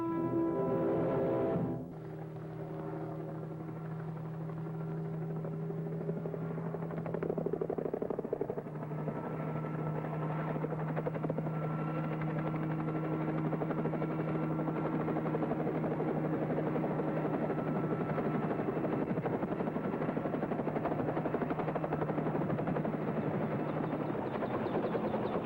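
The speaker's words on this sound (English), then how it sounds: "I want to charter a helicopter to land in this pasture and pick us up." A chartered helicopter flies and settles toward a pasture, its rotor drone steady and moderately loud after a brief shift in tone near the start, continuing without pause and with no talk.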